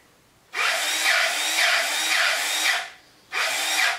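A grease gun pumps grease into zerk fittings on an EG360 mini skid steer, with two close bursts of mechanical whirring separated by a short pause, the first lasting about two seconds.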